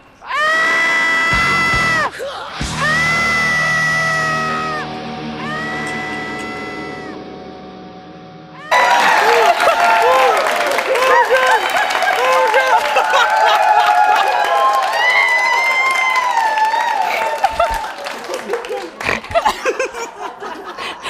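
Crowd of people screaming, shrieking and cheering loudly and continuously, with rising excited yells and laughter throughout, near and intense.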